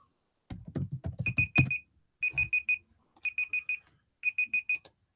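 A timer alarm beeps in three bursts of four to five rapid electronic beeps, clear and close, following a quick run of clicking taps.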